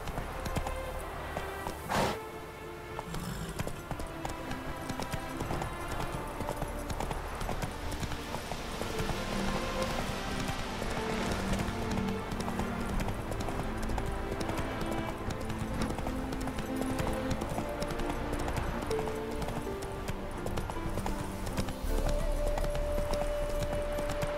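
Hooves of Roach, the horse in The Witcher video game, clip-clop in a steady, even rhythm for the entire stretch, loud and close, over game music and ambience.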